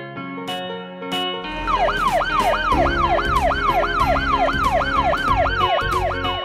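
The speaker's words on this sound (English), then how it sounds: "Fire engine." Animated fire engine siren starting after a few music beats, then a loud, fast, evenly repeating yelp continuing steadily over rhythmic background music.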